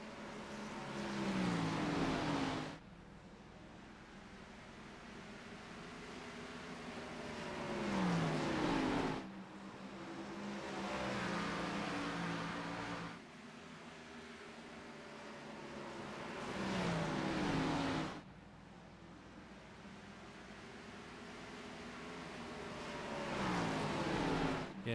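Race car engines circling Bristol in a racing video game, including a Toyota Supra in the lead, a steady engine drone that swells and fades in repeated laps as cars pass, moderately distant, with no talking.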